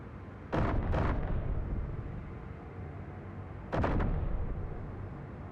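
Artillery turrets in the Space Engineers video game fire two heavy booming salvos, each a loud cluster of quick thuds followed by a long rumbling decay, with a pause of about three seconds between them.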